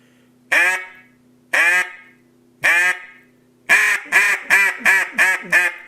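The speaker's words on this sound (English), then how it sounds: "It's a smooth, relaxed type quack." Loud, nasal quacks from a Haydel H2 duck call: three single, spaced calls, then a quick run of six clipped quacks in a steady rhythm, close and clear with no talking.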